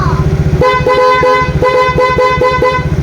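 A loud, close motorcycle horn honks in a rapid series of short beeps over the running engine of a Yamaha Mio Sporty scooter whose horn wiring was redone.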